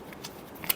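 Tarot cards are given a final shuffle, a soft papery riffle ending in a brief, sharper flutter of cards, faint and close with no talk.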